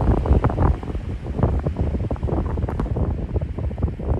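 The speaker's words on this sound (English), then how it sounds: "Just taking a break now with the wind." Strong outdoor wind roars and gusts steadily against the microphone, a loud, continuous rumble with buffeting low bursts and no voices.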